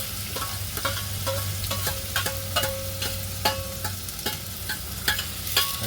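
Onions frying in a pan for egg curry: a steady, close sizzle with repeated sharp scraping clicks of a spoon stirring at an uneven rhythm.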